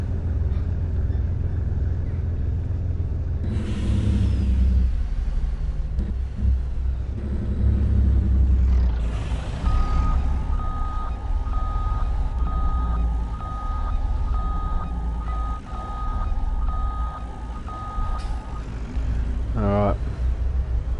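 A tractor in Farming Simulator 19 backs up to a trailer, its steady low engine rumble joined by a run of evenly spaced reversing beeps lasting several seconds, with a brief voice speaking over parts of it.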